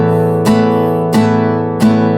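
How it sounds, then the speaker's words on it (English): Acoustic guitar chords strummed at close range in a beginner's simple first strumming pattern, with three sharp strokes spaced evenly over a sustained ringing chord. "If I now play that with the first strumming pattern,"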